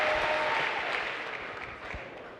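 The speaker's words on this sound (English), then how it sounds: "Give him a round of applause." A keynote audience at an SAP Sapphire event claps in a burst of applause, loud at first and then thinning out over a couple of seconds.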